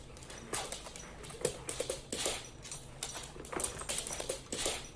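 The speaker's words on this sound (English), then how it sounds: "I kind of like the sound of their claws hitting the ground" Two big dogs chasing a laser pointer, their claws clicking and scrabbling on the ground in quick irregular bursts, close and fairly quiet with no voices.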